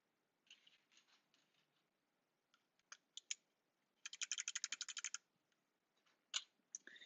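Navy clicky mechanical keyboard switches click crisply and quietly, first as scattered single presses, then a fast run of rapid clicks, then a few more isolated presses.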